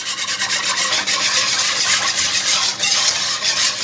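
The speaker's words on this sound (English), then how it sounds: "I am going to take my whisk" A wire whisk stirs pepper canning liquid in a large pot, giving a steady, close scraping and swishing rasp that runs continuously without a break.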